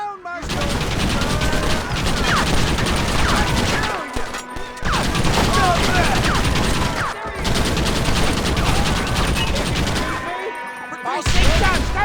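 Gunfire in a Red Dead Redemption shootout: dense, loud volleys of rapid shots and ricochets in long sustained bursts, broken by brief pauses, with voices shouting underneath.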